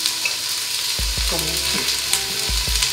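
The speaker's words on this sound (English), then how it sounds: "Igisa muna natin yung ating onion." Onion sautéing in a hot pan for Filipino beef sinigang gives a steady close sizzle, broken by a few soft low thumps of stirring around the middle and near the end.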